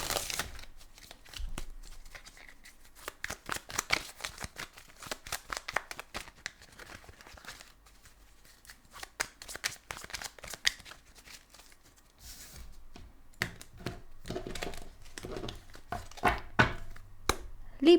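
Tarot cards are shuffled by hand in repeated rapid riffling bursts and soft slaps, close and crisp, continuing in uneven rhythm with short pauses between rounds.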